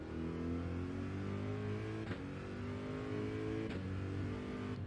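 A race car engine in Gran Turismo 7 on an American circuit hums and revs steadily, with clear rising engine tones and two brief gear-shift breaks.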